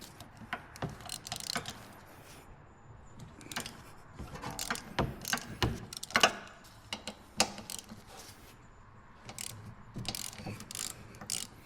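Ratchet undoing a 17mm bolt on the rear wheel hub of a 2010 Honda CR-V, a run of close, crisp clicking ratchet bursts with short pauses between strokes, no talking.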